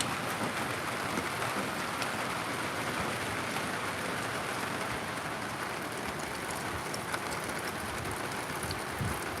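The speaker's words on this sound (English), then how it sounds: "Yeah, there's a lot of rain going on." Steady, dense rain pours down all day outdoors, a continuous loud hiss of drops on surfaces with no pauses or voices.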